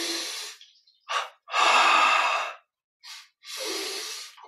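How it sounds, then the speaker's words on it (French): Deep, audible breaths drawn in and let out during a dumbbell chest exercise in a guided yoga session, coming as several close, airy swells with short pauses between them and no talk. "Inspire."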